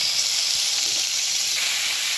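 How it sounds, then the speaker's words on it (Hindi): Chicken hitting hot oil with sautéed garlic in a pan for tandoori chicken pasta gives off a steady, loud, close sizzle that holds without a break, with no voices. "लहसुन सोते हो गया, अब मैं इसके अंदर चिकन ऐड कर रही हूँ।"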